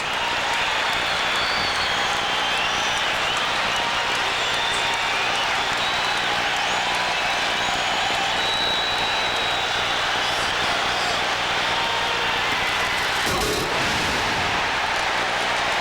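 A large arena crowd roars loudly and steadily for Michael Jordan's slam dunk at the 1988 Slam Dunk Championship. The cheering stays dense and sustained throughout, with a brief louder burst near the end.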